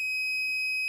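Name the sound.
Lumeno LED sensor light alarm sounding on movement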